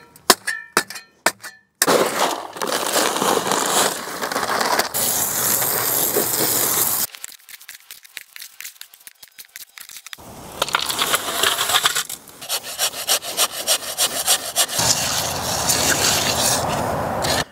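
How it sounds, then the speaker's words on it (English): Concrete is mixed by hand for mounting a solar panel frame: coarse gritty scraping and crunching of a tool through wet aggregate in a container, loud and close, coming in bursts with short pauses and a quieter stretch partway through. "let's mix up a little concrete"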